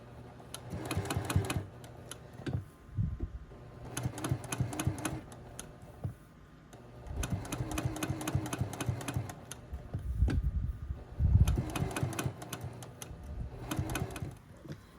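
A sewing machine straight-stitches around an appliqué flower on a quilt block, running in close, loud bursts of rapid mechanical clatter separated by short pauses, with one longer stop midway.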